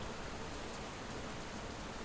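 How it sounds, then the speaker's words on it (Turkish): Rain falls in the bus-driving video game Fernbus Simulator as a steady, soft hiss of wet noise with no distinct drops. It sounds faint and even throughout. "yağmur yağdığı için böyle oluyor"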